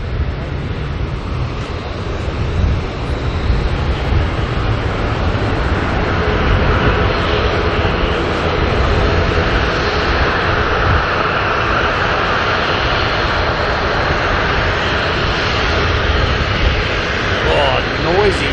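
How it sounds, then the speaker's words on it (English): An ATR turboprop airliner's propellers drone loudly and continuously at Auckland Airport, a broad rumbling roar that persists throughout while someone talks over it. "noisy props there, that ATR"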